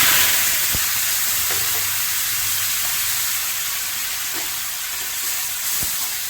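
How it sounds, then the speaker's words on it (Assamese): Star fruit sizzles steadily in a hot frying pan while being stirred, a dense continuous frying hiss broken by occasional soft clicks of the utensil against the pan, with no voices. "এইখিনি দি লৈ পেলাই আমি এতিয়া ভালদৰে লৰাই দিম।"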